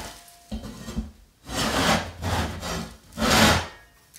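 A sharp scraper blade rasps textured coating off a wall in several separate strokes, each a loud, gritty scrape with short pauses between.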